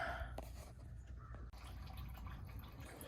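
Engine oil drains from a 2004 Dodge Dakota into a drain pan, making a steady trickling, dripping pour that runs continuously and fairly faint throughout.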